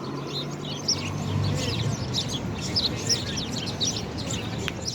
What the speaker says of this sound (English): Feed the birds, feed the pigeons.